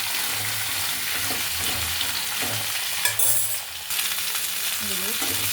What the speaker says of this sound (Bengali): নেড়ে দিচ্ছি, দেখুন বন্ধুরা,